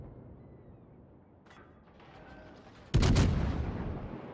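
Naval gun fire in World of Warships from a New Orleans cruiser lobbing shells over an island: a quiet hum of engine and sea, then a sudden loud multi-gun salvo booms and rolls away.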